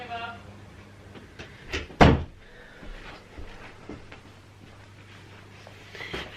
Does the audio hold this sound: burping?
no